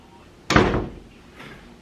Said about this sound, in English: Juju, shut the door